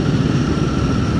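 A motorcycle engine drones steadily in top gear as the revs ease off, a dense, close, continuous rumble with no speech.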